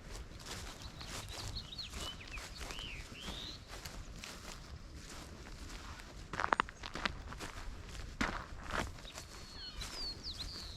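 Footsteps walking through a veterans' cemetery with American flags, in Hoodview, Oregon, steady and fairly close, with birds chirping and calling throughout and a few louder knocks midway.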